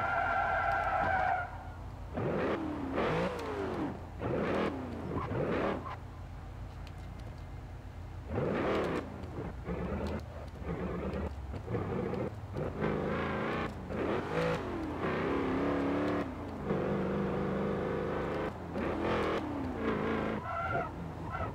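A Cadillac Escalade in Forza Motorsport 7 revving and skidding through an e-brake turn while parallel parking, with continuous engine drone, tyre squeal and repeated throttle bursts at steady moderate loudness.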